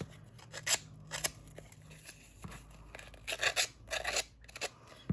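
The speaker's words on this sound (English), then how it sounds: "Can try with the scissors." Scissors snip through a paper tag in several short, crisp bursts of cutting and rasping, close and clear, with quiet pauses between the snips.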